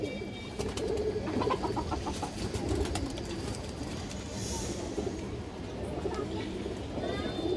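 Pigeons coo softly up close in repeated low calls, with a person talking over them.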